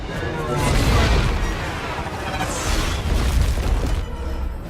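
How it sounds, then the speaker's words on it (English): Heavy booms and crashing blasts of gunfire and explosions rumble through a chase in Thor: The Dark World, loud and dense throughout with a short lull midway. "Now they're firing at us."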